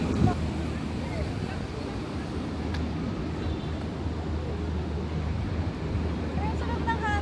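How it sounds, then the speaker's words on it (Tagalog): Wind blows along Passeig de Gràcia, a busy Barcelona boulevard, as a steady rushing roar buffeting the microphone, with a faint voice in the background. "Ang sarap ng hangin."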